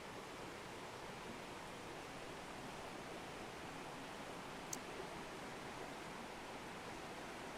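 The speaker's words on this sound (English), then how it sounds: "It's the River Swale. I'm just crossing it now." The River Swale rushes past in a steady, broadband wash of flowing water, heard close and continuous while crossing, with no voices.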